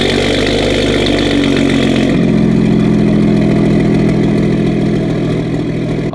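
A tuned Toyota Supra idles after a cold start, a steady, loud engine drone that drops to a lower, calmer note about two seconds in and holds there.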